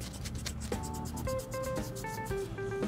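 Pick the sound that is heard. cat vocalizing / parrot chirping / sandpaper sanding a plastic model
sandpaper sanding a plastic model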